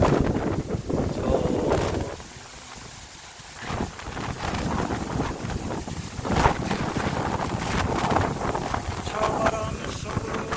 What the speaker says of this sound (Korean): 시악산에 해는 떠오르고 바람은 세차게 불고